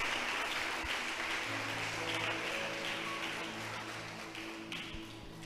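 A church congregation applauds the Lord during a sermon, a quiet, steady wash of clapping heard from a distance with a faint hum underneath.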